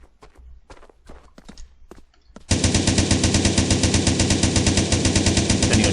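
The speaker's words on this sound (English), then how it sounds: "This is my favorite, the AK-47. It's your typical assault rifle." Rapid automatic fire from an AK-47 assault rifle in the video game Blockstorm. A few scattered quieter clicks and steps come first, then a loud, dense, sustained burst of shots runs to the end.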